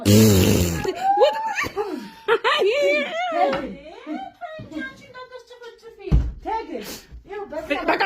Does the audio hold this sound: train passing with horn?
no